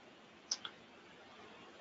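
Two faint quick clicks of a computer mouse close by, a short pause between them, over a quiet room hiss.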